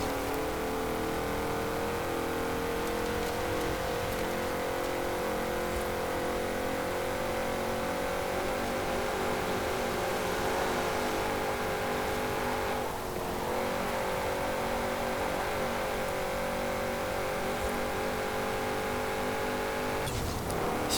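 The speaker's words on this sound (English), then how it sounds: "I'll let you listen to the engine for a little bit first" A 1993 Porsche 928 GTS V8 in Forza Horizon 4 drones loudly and steadily, engine held at sustained revs with slight pitch shifts and brief dips around the middle and end, no talk.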